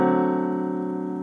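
A D dominant 7 chord built in root position from D at the bottom is struck once and sustained, a full steady chord that stays even throughout without any voice.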